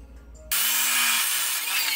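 A power saw cuts through three stacked film reels at once, bursting in loudly after a short quiet start and running as a steady bright rasp to the end.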